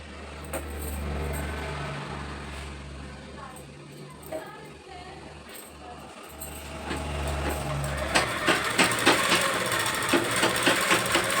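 A sewing machine hums and whirs steadily while stitching a lined blouse, with a brief break midway, then gives way to sharper rhythmic clattering near the end.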